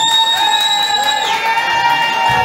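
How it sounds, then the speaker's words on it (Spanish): A festival crowd at La Terraza in Chile cheers and whoops steadily and loudly, with sustained tones ringing over the noise throughout. "Y aplauso para mi amigo"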